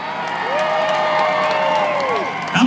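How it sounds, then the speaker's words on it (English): A crowd at a night waterless boat race cheers, whoops and applauds steadily for a favorite car, loud and close, with a distant announcer's voice running underneath. "You got cheer for your favorite."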